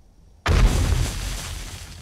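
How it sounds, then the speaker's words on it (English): A thrown bomb in a video game detonates in a single loud, sudden boom that cuts in from near silence, then rolls off into a long, slowly fading rumble. "Don't mind the relatively loud explosions."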